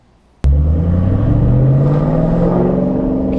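A Shelby GT500 engine bursts to life abruptly and roars loudly and steadily close by, its pitch climbing gradually as it revs up for a ride around the block.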